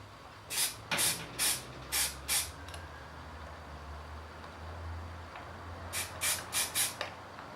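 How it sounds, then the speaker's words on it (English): Short bursts of aerosol spray paint hiss over a model tank, five in a row, a pause with faint background hum, then another quick series of four or five bursts, close by. "all we need to do is do a bit more spray painting"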